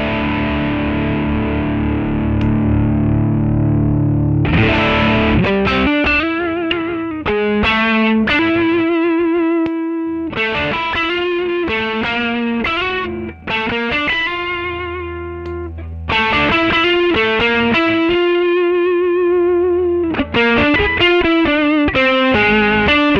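Electric guitar played through an RPM Pedals Strips Last Lie 7-in-1 multi-effect pedal on its distortion setting: loud, sustained, saturated chords and riffs in repeated phrases with brief pauses, no talking.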